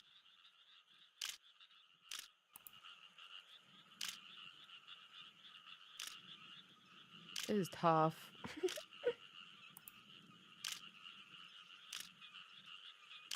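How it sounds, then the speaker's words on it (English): Little frogs croaking in the Japanese horror video game Japan Stigmatized Property, repeated soft croaks over a quiet ambient bed, with sharp clicks and a person speaking briefly midway. "I do like how you can hear, like, the little frogs and stuff."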